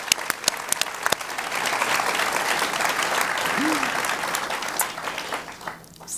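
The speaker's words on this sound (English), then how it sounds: "A round of applause" Sustained audience applause fills a live recording of a food podcast's stage show, loud and dense for about six seconds, with a brief whoop partway through before it begins to thin out.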